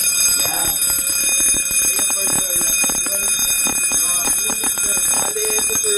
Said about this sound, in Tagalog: ito po yung first alarm natin, guys.